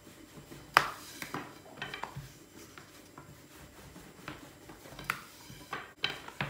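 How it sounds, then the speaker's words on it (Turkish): Wooden rolling pin rolling thin dough for börek, irregular clacks and soft rolling thumps on the board, close and fairly quiet with no voices. "En çok sevdiğim seslerden biri oklava sesi, hamur sesi, şıpır şıpır."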